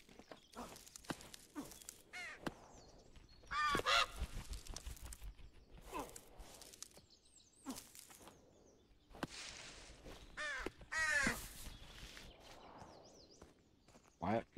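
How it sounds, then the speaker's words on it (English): Crows caw in scattered, intermittent calls inside the climbing game Peaks of Yore, mixed with footstep-like crunches and thuds at a low overall level. "Why are there birds in the game?"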